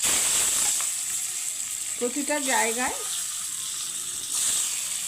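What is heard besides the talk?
egg frying in oil with salt, turmeric and chili powder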